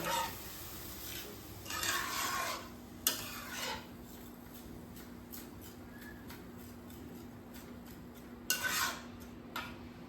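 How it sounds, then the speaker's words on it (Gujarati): Damru sev dough mixture being stirred after milk is added, soft intermittent scraping and tapping of a spoon against a bowl, close and fairly quiet, with short louder bursts. "દૂધ નાખ્યા બાદ આપણે ફરી એકવાર એને સારી રીતે દૂધ જોડે મિક્સ કરી લઈશું"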